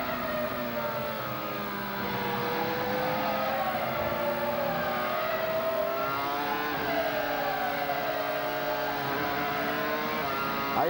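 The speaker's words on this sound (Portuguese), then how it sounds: "Aí é o Williams, motor BMW, pneus Michelin, o conjunto do colombiano Juan Pablo Montoya." Williams Formula 1 car with a BMW engine and Michelin tyres, heard onboard with Juan Pablo Montoya at the Spanish Grand Prix, a loud high-pitched engine wailing steadily, rising and falling through gear changes without pause.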